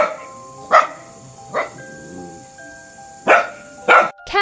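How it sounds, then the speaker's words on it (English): A dog barks four times in short, separate barks with pauses between them, close and clear over a faint tonal hum. "Dog, woof."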